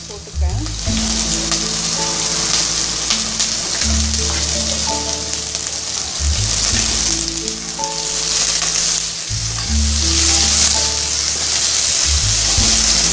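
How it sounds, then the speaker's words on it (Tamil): Onions and fennel seeds sizzling loudly in hot oil for Tamil-style veg pulao, a steady, close frying hiss with occasional stirring and no talking. "எண்ணெய் நல்லா காஞ்சி இருக்கிறதுனால வெங்காயம்லாம் சட்டுன்னு வதங்கிடுது."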